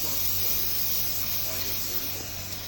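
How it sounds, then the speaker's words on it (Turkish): Cleaning spray hisses in one continuous, even burst as it is sprayed onto Forza 250 scooter variator parts during maintenance, close and loud, with no pauses. "Evet, tüm parçalar halka spreyle temizleniyor."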